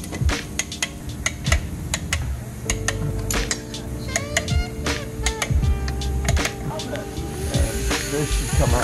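A torque wrench clicks and ratchets while a Clutchmasters FX350 clutch and single mass flywheel go into a 2017 Honda Civic, with dense sharp metallic ticks close by in a busy garage and faint voices in the background.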